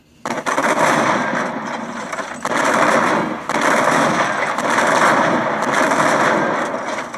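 A semi-automatic modded weapon fires in Halo 5 Guardians, giving a steady, loud stream of rapid shots in long continuous stretches with brief breaks between them and no talking.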